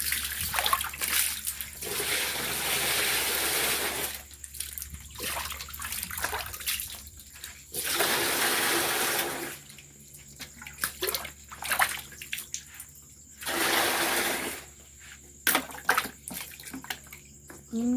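Water overflowing from a container, pouring and splashing in loud bursts that stop and start several times, with quieter gaps between, close by and without talk.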